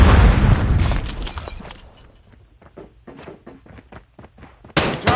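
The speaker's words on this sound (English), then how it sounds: "Grenade out." A grenade goes off in a first-person shooter game: a loud booming blast at the start that fades out, followed by a run of quick quieter taps like footsteps, then a sharp crack at the end.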